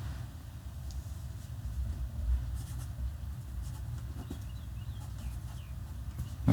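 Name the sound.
pen writing a signature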